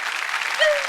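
Brief burst of studio audience applause on a women's television game show, dense steady clapping from many hands with a short voice rising over it.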